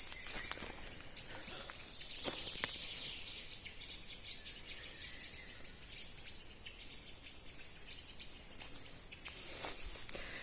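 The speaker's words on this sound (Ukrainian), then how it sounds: "Чують, як пташки співають в лісі" Birds chirp and sing in a forest with quick bright calls scattered over a soft, steady background of insects and rustle, no voices.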